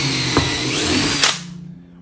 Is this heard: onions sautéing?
no